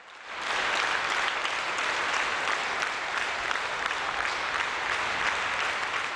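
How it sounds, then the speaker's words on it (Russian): Factory workers in a production hall applaud the visiting president, sustained loud clapping from a group, starting abruptly and continuing evenly without pause. "При входе в производственное помещение работницы фабрики встречают президента с аплодисментами"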